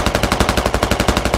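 A machine gun fires in the military shooter game Squad, a steady, rapid automatic burst of about a dozen loud, evenly spaced shots with no pause.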